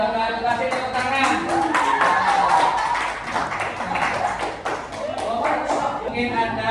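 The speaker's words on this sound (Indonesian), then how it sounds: "Kasih tepuk tangan" A classroom of pupils claps in scattered, uneven bursts of taps and slaps, mixed with children's voices talking and calling out over the clapping.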